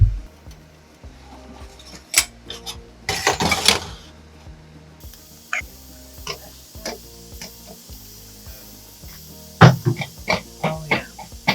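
Pots and dishes clink and knock during a home canning and bone broth cooking session, with scattered sharp taps and a brief clattering burst.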